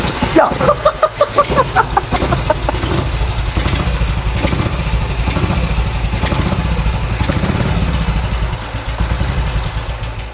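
An old BSA motorcycle engine fires up with a few sharp, rapid bursts, then settles into a loud, steady running rumble with mechanical clatter, close by and continuing throughout.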